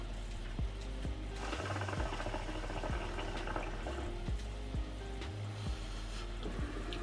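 Aeon Aurora Edition 2 hookah, built with carbon and glass parts, bubbling as it is smoked: close, rhythmic low gurgles repeating about every half second, with no talking.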